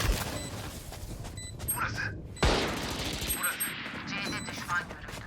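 Bursts of gunfire in the tactical shooter Valorant, with rapid, crackling shots and a sharp loud crack in the middle, heard under excited talk between players and mixed with mechanical game effects.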